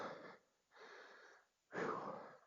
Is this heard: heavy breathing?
yes